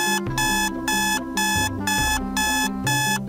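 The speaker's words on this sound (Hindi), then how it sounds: "अगर कोई डायमंड को छुए तो अलार्म बज जाता था।" A diamond palace security alarm rings in loud, regular electronic bursts, about five evenly spaced pulses with short gaps, close and alone.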